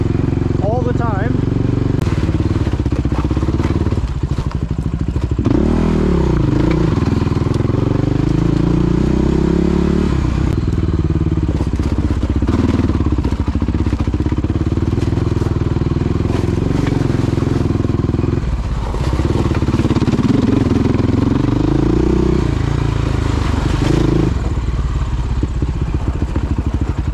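A Suzuki LTR450 ATV is ridden with a steady, loud, droning engine throughout, while rough clattering and scraping knocks of the skid plate come through the engine noise, with wind buffeting and a voice speaking now and then.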